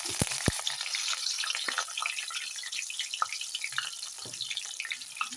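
Ginger and garlic fry in oil with a busy, crackling sizzle full of small pops and spits, fairly close and steady throughout, with a few sharper crackles at the start.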